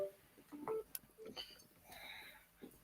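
Mobile phone dialing tones, a few short beeps scattered among rustling and handling noise, with someone talking over them.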